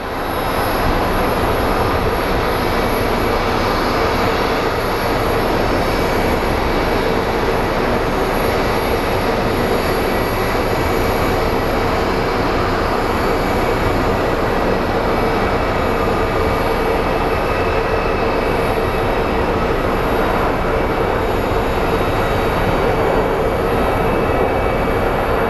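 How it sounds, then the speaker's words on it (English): A Boeing 737 MAX jet airliner from JFK roars loudly and continuously at Phoenix Sky Harbor, a broad, steady engine rumble with a high whine on top, sustained close by throughout. "737 MAX coming out of JFK."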